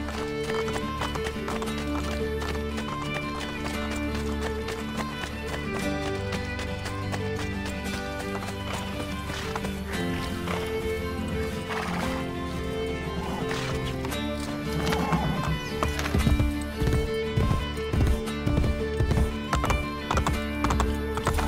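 A horse gallops and neighs in the video game Assassin's Creed Brotherhood, hoofbeats growing into a loud rhythmic clip-clop over game music, with a whinny along the way.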